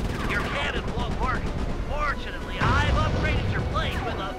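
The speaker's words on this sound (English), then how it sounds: "Oh, rockets." Rockets and gunfire in the Sly 3: Honor Among Thieves video game, dense loud crackling bursts and blasts mixed with whooshing, warbling effects and a swell near the middle, with a voice talking over the action.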